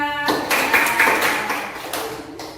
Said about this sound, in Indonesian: Tepuk tangan untuk Mbak Naswa.